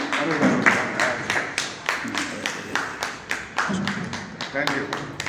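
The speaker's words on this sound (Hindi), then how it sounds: "बिल्कुल, आप लोग ताली बजा सकते हैं।" An audience at a book launch ceremony in a school hall in Kota claps in a steady, rhythmic beat, the close claps thumping evenly throughout with voices briefly audible at the start.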